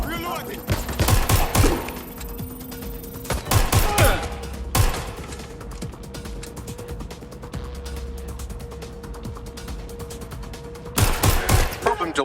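Gunfire in Watch Dogs Legion: bursts of automatic shots in short volleys at the start, middle and end, with mechanical clicks and a low steady game hum between them.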